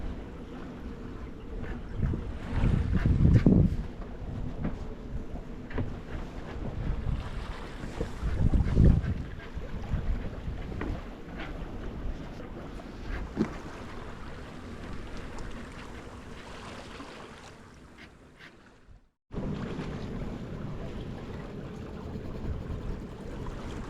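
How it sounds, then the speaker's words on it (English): A sailboat runs under sail at sea with the wind behind it. Steady wind buffets the microphone over the rush of water along the hull, with louder gusts near the start and a brief dropout near the end. "Sails are pulling nicely. Got the wind right behind us."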